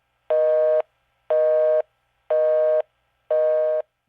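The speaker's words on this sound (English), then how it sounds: "If you had a fire, you go to dial 911, what do you get? Nothing but the busy signal." Telephone busy signal heard after dialing 911: four evenly spaced, loud, steady tone bursts, each about half a second long and separated by equal silences, clean and close.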